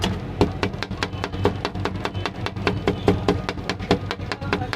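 Rapid, steady metallic clacking of metal spatulas striking a hard tawa ice cream griddle in Rawalpindi, a quick even rhythm over a low background hum.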